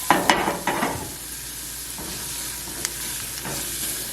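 Omelette vegetables seasoned with salt and pepper are stirred in a hot pan, a few quick scraping strokes over a light, steady sizzle, close and without talk.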